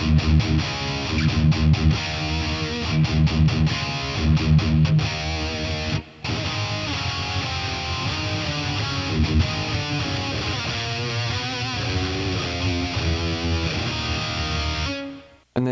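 An electric guitar through a BOSS Katana MK2 amp on a preset, loud distorted heavy-rock riffing with chugging palm-muted stabs and sustained chords over about fifteen seconds, alone, ending abruptly.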